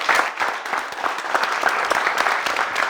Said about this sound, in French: Merci de l'applaudir, les gars.